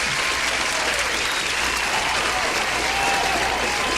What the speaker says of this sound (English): Give him the applause.